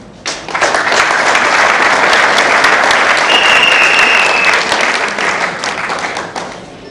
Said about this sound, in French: nous prions la salle de vous applaudir